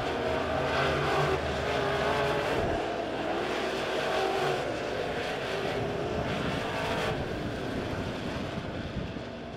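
USRA B-Mod dirt track race cars roar down the front stretch at Springfield Raceway, a loud, continuous engine drone that stays close and steady throughout.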